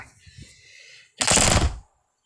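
Guns firing in the arena game Brotato, a faint patter of small shots followed by a loud, dense half-second burst of rapid gunfire that cuts off abruptly.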